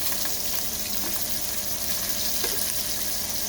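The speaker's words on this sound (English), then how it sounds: "I'm going to start searing off, right in the same oil, in the same pan, my Italian sausage" Italian sausage searing in hot oil in a pan, a dense, steady sizzle and crackle that holds throughout with no talking.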